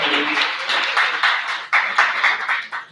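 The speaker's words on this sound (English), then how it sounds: "Give her a big round of applause, please." Audience at a celebration and presentation event giving a round of applause, a dense wash of clapping hands at moderate distance with rhythmic bursts, swelling in the second half.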